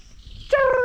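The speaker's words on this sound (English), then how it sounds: "the birds have been changing sound here and there" A bird calls near a village home, a short, clear harmonic chirp that rises sharply and holds briefly after a faint hiss of background noise.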